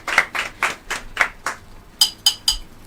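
Slow, evenly spaced hand claps at an inter-school girls' secondary oratory competition finale: six firm claps, a short pause, then three sharper ones, close and distinct rather than a dense crowd.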